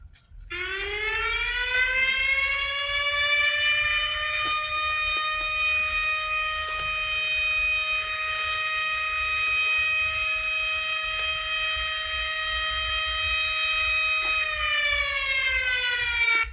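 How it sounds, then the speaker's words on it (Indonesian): A wailing emergency siren sounds as a steady, loud tone with rich harmonics, holding nearly constant pitch for about fourteen seconds before dropping off near the end, heard alone with no talk. "Bunyi sirine."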